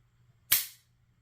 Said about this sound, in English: A real good audible reset.